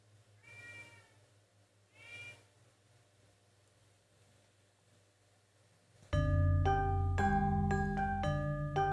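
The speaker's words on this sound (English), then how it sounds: "my cat is calling, so I think I need to feed him" A pet cat meows twice, faintly and some distance off, in a quiet room. Loud sustained music chords then take over abruptly.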